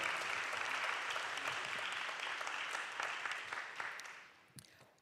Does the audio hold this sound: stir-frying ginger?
no